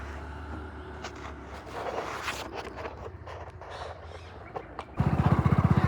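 A scooter's engine, an Activa, revs up loudly and close near the end as it is pulled out of a pothole on a badly broken road, after several seconds of rough outdoor noise and scuffing.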